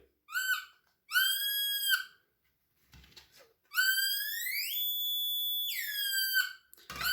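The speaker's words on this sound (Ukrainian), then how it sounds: "Гучність звуку залежить від розміру виявленого металевого предмета." A Titan GC-1001 handheld metal detector gives rising electronic beeps in separate bursts, a couple short and then longer sustained tones, loud and close with brief gaps of silence between them.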